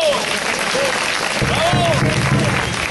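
A concert audience claps in a loud sustained burst of applause while someone speaks over it in Spanish.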